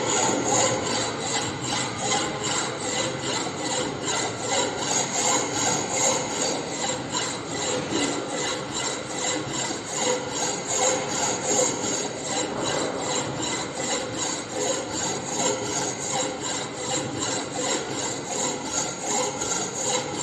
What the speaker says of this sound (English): So now this is the filing operation.